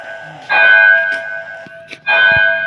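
A temple bell in PUBG Mobile Lite rings loudly twice, each strike leaving a sustained, humming tone that lingers before fading.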